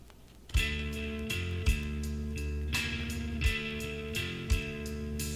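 A brand new reissue vinyl record plays with a low, buzzy, flatulent distortion under the music, regular bass thumps and bright cymbal-like hits recurring steadily, moderately loud and without talk.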